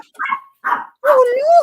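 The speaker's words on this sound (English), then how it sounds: "You hear the dog barking?" A dog barks three times nearby, short sharp barks spaced apart, the last stretching into a rising whine-like yelp, heard indoors during a casual crafting session.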